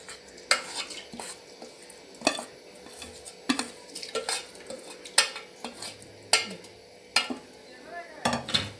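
A spoon clinks and scrapes against a pot while maize grits are stirred into warm water, giving a series of sharp metallic knocks and rasps at an irregular rhythm, close and fairly quiet.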